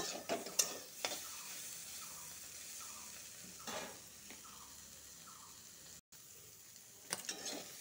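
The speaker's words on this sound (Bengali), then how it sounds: "ভালো করে একটু ভেজে নিব।" Bitter gourd fries in a pan with a soft, steady sizzle, broken by several sharp clinks and scraping stirs of a utensil against the pan, close and without talking.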